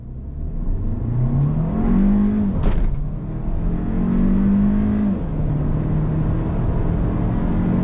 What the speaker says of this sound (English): We're gonna do a little bit of on throttle here, see how it goes, and use the actual shift lever.